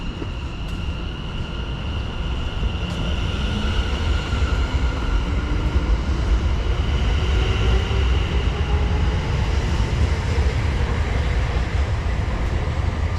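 London Overground Class 710 electric train pulling away from Watford High Street station, a loud, steady rumble of wheels on rail with rising traction-motor whine sweeping upward as it accelerates, heard close from the platform.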